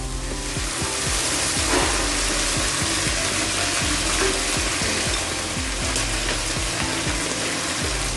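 Pasta sauce with chili flakes and tomato ketchup frying in a pan: a dense, steady sizzle with rapid scraping and clicking from stirring throughout, with no voices.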